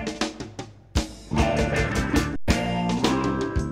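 Playback of the first Mauritian seggae cassette, cut on only eight tracks with no mixing and no studio conditions: a band with percussive beats and chords starting and stopping in short bursts, close and moderately loud.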